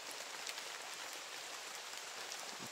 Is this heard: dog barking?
no